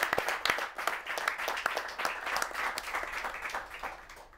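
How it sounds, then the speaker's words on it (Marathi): An audience gives a round of applause congratulating villagers for their work against drought. Many hands clap in a sustained, fairly dense burst that tapers slightly toward the end, heard from mid-distance with no speech. "आपण सर्वांनी टाळ्या देऊन वाजवून त्यांचं"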